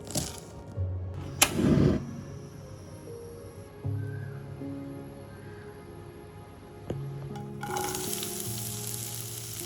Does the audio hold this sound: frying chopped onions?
yes